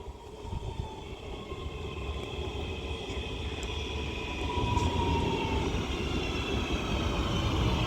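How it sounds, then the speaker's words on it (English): A Northern Class 323 electric train rumbles into Kidsgrove station with a steady, broad roar and faint high electrical whines, slowly growing louder as it draws nearer, no voices. "This Northern 323 now arrives into Kidsgrove with the 1333 service to Stoke-on-Trent"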